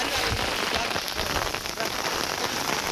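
Heavy rain pours onto a flooded farm field, a dense, loud, continuous hiss of drops hitting water and foliage, with no voices over it.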